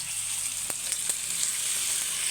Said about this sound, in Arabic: هنا لازم الجريل يسخن قوي، وهننزل فيه اول حته بانيه